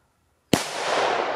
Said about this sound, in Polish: Głośna petardka.